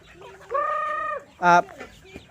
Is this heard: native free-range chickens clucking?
yes